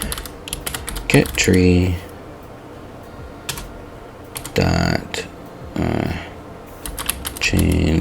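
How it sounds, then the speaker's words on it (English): Rapid clicks from typing on a computer keyboard during a Godot 4 game-engine session, coming in short bursts between stretches of a man's nearby speech. "now it should be as simple as typing"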